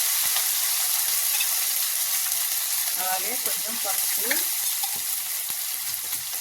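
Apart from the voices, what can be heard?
ginger garlic paste frying with onions in oil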